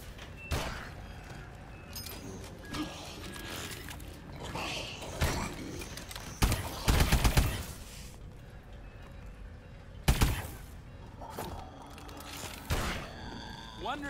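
Scattered gunshots in the Advanced Warfare zombies mode, with repeated sharp bangs and heavier thuds across a busy mix of game noise and speech.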